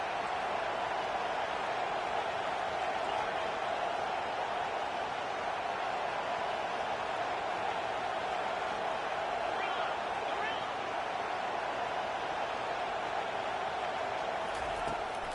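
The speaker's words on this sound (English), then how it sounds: "Decibels rising as the crowd gets behind this defense on 3rd down." A football stadium crowd roaring for the defense on third down in an OSU game, a dense, continuous wall of cheering noise that stays loud throughout, with an announcer's voice over it.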